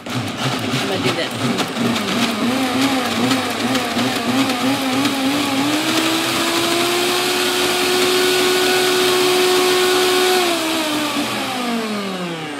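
A kitchen blender whirs loudly and continuously, blending roasted carrots and onions for a dip, its motor pitch holding steady and then rising slightly before easing off.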